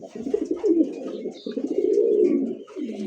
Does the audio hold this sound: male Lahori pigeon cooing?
yes